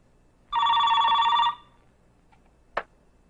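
Telephone ringing with an incoming call, a single clear electronic ring of about a second, followed by quiet and a short sharp click.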